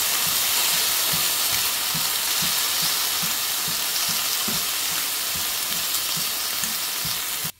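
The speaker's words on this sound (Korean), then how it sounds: "그리고 잘 볶아줍니다." Chopped kimchi and Spam are stir-fried in a pan, giving a steady, loud, close sizzle with faint rhythmic scraping strokes of stirring underneath and no voices.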